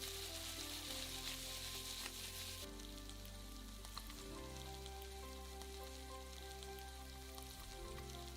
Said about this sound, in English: And a little later we add vegetables. Fry in just a couple of minutes.